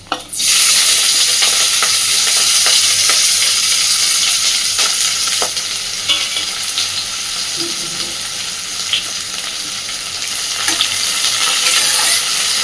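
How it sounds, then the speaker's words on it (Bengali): Chopped onion and slit green chilies fry in hot oil with bay leaf, dried chili and cumin, a loud, close, steady sizzle with faint stirring scrapes, no voices. "পেঁয়াজ আর কাঁচা লঙ্কাটাকে সুন্দরভাবে একটু ভেজে নেব।"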